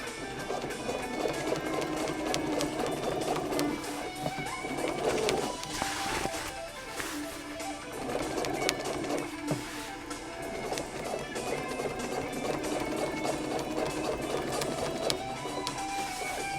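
Sewing machine stitching a velvet electroluminescent wire pillow, a continuous close mechanical whirring that runs almost throughout with small fluctuations and a brief dip in the middle.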